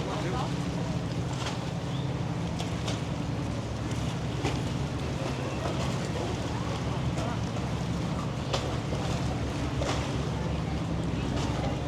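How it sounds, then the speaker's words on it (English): Steady wind buffeting on a tour boat at sea near Nassau's port in the Bahamas, a constant low rumble and hiss with occasional gust thumps throughout, loud and close, with faint talking mixed in. "It's very windy today."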